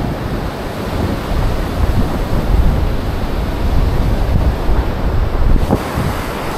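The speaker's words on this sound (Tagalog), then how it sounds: "Medyo malakas-lakas yung mga alon dito" Strong sea waves surge and break at a murky-watered shore, a loud continuous roar of surf mixed with heavy wind buffeting the microphone, with no voices.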